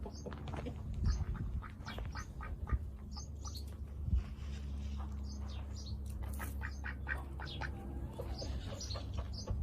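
Ducks at a farm sanctuary, including a black runner duck, quack and squawk repeatedly at close range, with overlapping calls and faint chirps over a low outdoor rumble.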